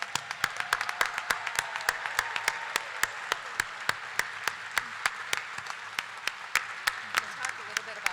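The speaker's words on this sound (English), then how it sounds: "I would like to ask all to join in a round of applause for all" Applause for honorees at a Senior Day gathering: a crowd claps steadily and fairly loudly throughout, with sharp individual claps standing out above the dense wash.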